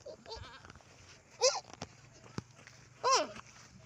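Pet goats bleat twice, with loud, clear calls spaced about a second and a half apart over a quiet outdoor background. Faint rustling and a sharp knock sound between the calls.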